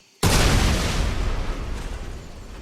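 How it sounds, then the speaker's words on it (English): A sudden, loud video game explosion in Marlow Briggs and the Mask of Death bursts in after a brief quiet, then rumbles on as a long, heavy roar that slowly fades. "It turned out that the solution was explosions."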